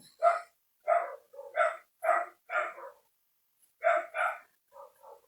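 A dog barks again and again at night, each bark short and moderately near, coming in an uneven series with brief gaps between them.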